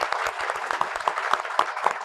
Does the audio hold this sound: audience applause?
yes